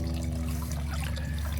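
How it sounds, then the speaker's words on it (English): Garden pond waterfall running slowly, a steady, close, continuous splash and trickle of flowing water with a low hum underneath and no talk. "Waterfall's going okay, but it's a little slow"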